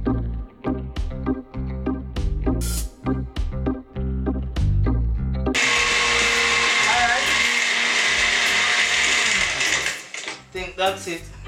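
Blender whirring loudly and steadily through a scotch bonnet pepper margarita, starting abruptly after a stretch of music and talk and running for several seconds before winding down.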